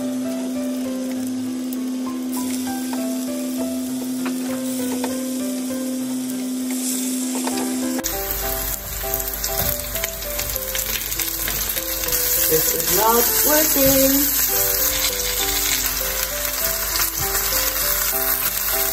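Steady crackling sizzle of vegetable pancakes frying in a hot pan, continuous and close, with brief scraping and a short spoken word partway through.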